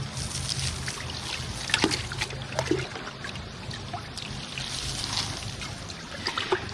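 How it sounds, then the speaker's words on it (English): Worm casting tea made from African nightcrawler castings is poured over the base of a potted plant, a soft close trickle and slosh of liquid running steadily for several seconds with a few brief splashes. "then you can get some and pour it over the plant"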